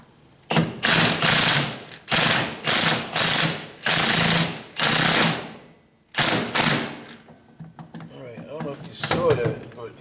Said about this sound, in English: when I squeezed the trigger on the impact gun, it pulled it in